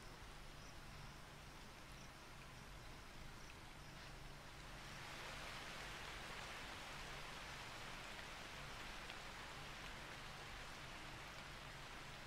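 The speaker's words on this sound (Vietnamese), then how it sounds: "Cơn mưa xối xả đổ xuống không ngừng trong một tuần." Heavy downpour in the wild, a faint, steady hiss that thickens into denser rainfall midway, with insects chirping softly underneath.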